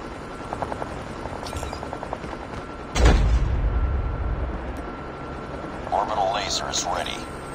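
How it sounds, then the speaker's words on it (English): In Call of Duty: Mobile, a stealth helicopter rumble swells in with a sudden whoosh and hovers loudly, mixed with game sound effects and scattered electronic beeps and chirps. "Friendly stealth chopper inbound."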